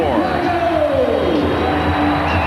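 A basketball arena crowd cheering during a 1997 Bulls versus Hawks NBA game, a loud, dense roar that holds steady throughout while a commentator talks over it.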